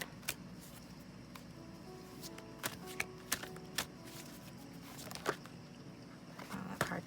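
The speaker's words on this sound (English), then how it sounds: "I'm going to shuffle and then cut." Tarot cards being shuffled by hand in a quiet room, a faint soft riffling with a few sharper taps and slaps, close and alone.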